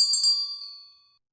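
A single bright bell ding for a subscribe notification rings out clearly alone, its metallic tone decaying smoothly over about a second.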